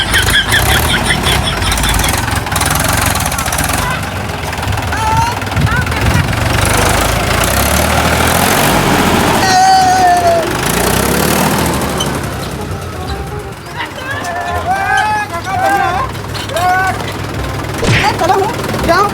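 A tractor engine runs steadily at idle, a loud continuous rumble close by, with people talking over it throughout.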